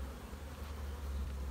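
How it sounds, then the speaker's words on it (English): Honey bees swarm around an opened hive during an inspection, their buzzing a steady, dense drone that fills the air close by, with no voices over it. "A lot of bees flying."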